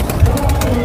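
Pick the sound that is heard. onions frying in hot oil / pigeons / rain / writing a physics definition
pigeons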